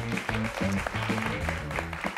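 Studio audience applauding a singer on a Turkish late-night talk show, steady clapping throughout with musical band tones playing over it.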